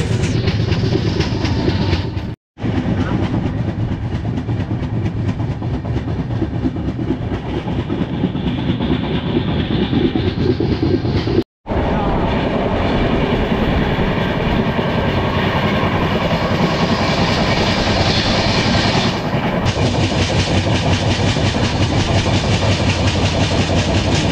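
Kantabanji Ispat Express (22861) rolling along the rails at speed on the Howrah to Ghatsila route, a steady loud rumble with rhythmic wheel clatter, broken by two brief dropouts, no voices.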